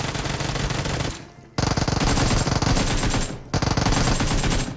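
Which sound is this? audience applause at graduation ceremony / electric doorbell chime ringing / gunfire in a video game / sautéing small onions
gunfire in a video game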